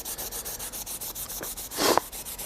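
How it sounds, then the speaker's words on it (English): A die being scrubbed with plastic mold cleaner, a soft, rhythmic back-and-forth rubbing of roughly even strokes up close, with a brief louder scrape near the end. "So we'll give that a nice little scrub."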